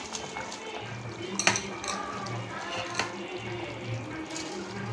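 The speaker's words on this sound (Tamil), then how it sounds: "இந்த ஸ்டேஜில் நம்ம இந்த கழுகி வச்சுருக்கிற அரிசி அதில் போட்டுடலாம்" Washed rice goes into a pot of boiling water for biryani, a bubbling wash of water with a couple of brief clinks and splashes from the pot, no voices over it.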